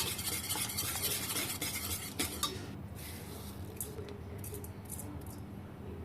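No-bake bread batter being mixed in a bowl, with a dense wet scraping and stirring that is loudest at first, then quieter clinks and taps of a utensil, close and faint, with no voices.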